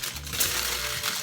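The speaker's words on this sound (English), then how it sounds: "Wrap it in foil." Aluminium foil being folded and scrunched around a whole garlic bulb, giving a short burst of close, papery crinkling with a metallic tinkle, no talking.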